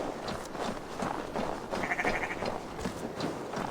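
A sheep bleats once in a short wavering call over a busy ambient background in the video game Assassin's Creed Valhalla.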